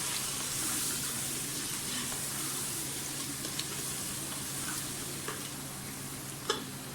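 Homemade nihari masala fries with chicken in a pan, giving a continuous soft sizzle broken by occasional light clicks and scrapes from stirring, with no talking.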